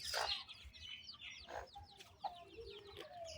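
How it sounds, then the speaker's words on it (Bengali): Village chickens cluck softly in a garden, several short, faint calls scattered across a quiet background. "কত সুন্দর মুরগি দেখছেন।"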